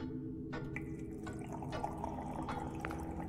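A faucet in the video game Mono drips blood, giving soft, scattered drips at irregular intervals over a low, steady hum, quiet and close, with no talking.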